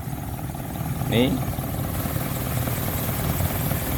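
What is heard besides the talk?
1994 Suzuki Vitara JLX 4x4 engine idling smoothly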